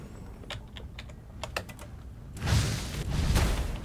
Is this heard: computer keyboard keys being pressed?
yes